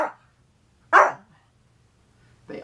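A pet dog named Sundance barks indoors, close by: a few separate loud woofs spaced apart by quiet gaps.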